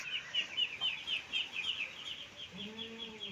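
Chickens in a poultry barn give a quick run of high, repeated clucks and chirps, fairly close but moderate in level, followed by a lower drawn-out call at the end.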